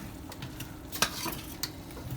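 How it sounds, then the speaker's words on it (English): Oxtail meat sizzling in a pot over low heat while cooking Jamaican oxtail, a soft steady fry with occasional stirring scrapes and clinks, fairly quiet and without talk. "My meat's sizzling in here"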